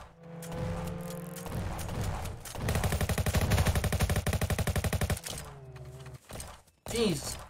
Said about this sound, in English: Here's somebody getting shot.